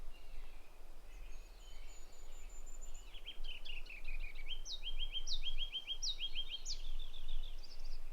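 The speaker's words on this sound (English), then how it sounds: "Hear a few of the birds though." Birds chirp and call in short bursts in the Rocky Mountains along Trail Ridge Road, faint and distant over a low steady rumble, several repeated call phrases in the second half.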